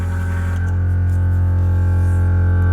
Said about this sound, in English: is the little air compressor in the rear crush